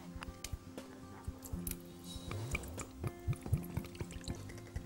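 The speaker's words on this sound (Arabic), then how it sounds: "وخلينا نحط شويه ميه." Water poured during preparation of a Japanese cake, a soft intermittent trickle with small drips and light clinks, fairly quiet and heard alone.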